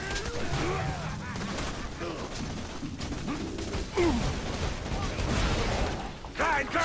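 Enemy turret firing in Borderlands, rapid bursts of game gunfire and mechanical clatter mixed with other combat effects, loud and continuous, with someone talking over it.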